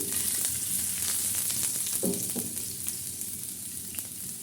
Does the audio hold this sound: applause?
no